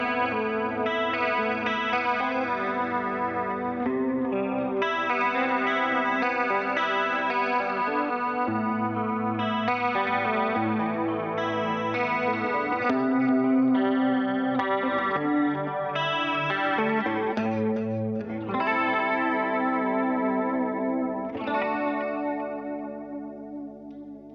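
An electric guitar with the pickup rolled back for a Strat-like tone plays through a Boss BE-5 multi-effects pedal. Continuous chorus-shimmered, lightly driven chords and melodic lines ring steadily, with no talking.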